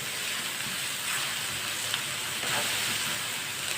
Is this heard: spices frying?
yes